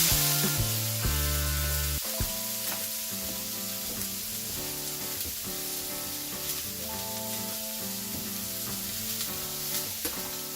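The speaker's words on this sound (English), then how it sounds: "And then add your burger." Steady, loud sizzling of a pork and apple burger patty frying on a hot plancha, a continuous crackling hiss with no talking.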